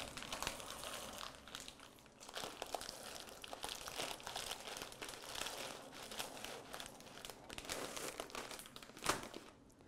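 Half a bag of dry pasta poured into a pot, the plastic bag crinkling and crackling steadily for about ten seconds, close and fairly soft, with no talking.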